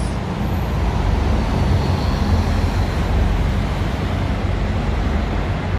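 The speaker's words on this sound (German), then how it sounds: "Und jetzt noch eine Busparade." A parade of city buses, including Mercedes Citaros and VDLs, rolling past at a station as a steady, loud roadway rumble with engine drone and tyre noise and no distinct pauses.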